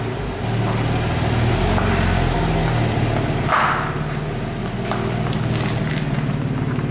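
A 2021 BMW M3 G80 drives away with a low, steady engine rumble at moderate volume that swells briefly, then eases as the car pulls off.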